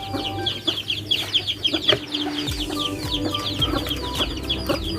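A mother hen of fighting-cock stock clucks repeatedly to call her chicks, with other birds chirping and calling nearby on a farm; steady, close rhythmic clucking fills the five seconds with no talk.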